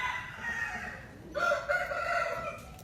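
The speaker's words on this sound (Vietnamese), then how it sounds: "Gà này có siêu lai." A rooster crows once, fairly faint and somewhat distant, over low background noise at a Vietnamese fighting-cock gathering.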